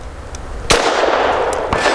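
A Grand Power LP380 pistol fired at steel targets outdoors, with two sharp, loud shots about a second apart, each cracking sharply and tailing off into a bright ring.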